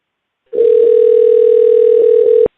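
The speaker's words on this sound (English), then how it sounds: "Ringing." A telephone ringback tone on an outgoing call, purring as one loud steady tone lasting about two seconds before cutting off abruptly.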